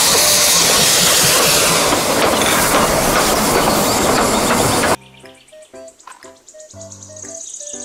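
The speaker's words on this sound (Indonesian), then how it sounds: "Kereta Thomas." A Thomas toy train's busy clattering and whirring for several seconds, then a quieter stretch of bright, tonal electronic jingles and chimes.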